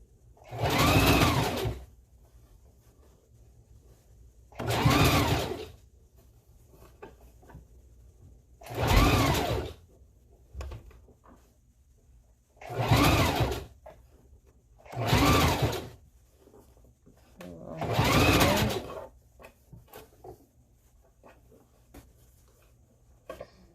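A sewing machine stitches a closure wig in six separate bursts of running, each a second or two long with short pauses between, close and fairly loud against a quiet room.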